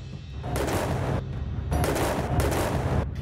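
Gunfire from a single person shooting into the air during Diwali, heard as dense, sustained blasts in two or three loud bursts that fill the clip, with no talking.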